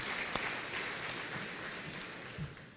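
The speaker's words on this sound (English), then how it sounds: "let's give all of our outgoing board members a round of applause and thanks for their great service" An audience at an annual meeting applauds outgoing board members, a quiet, steady patter of clapping with a few sharper claps standing out.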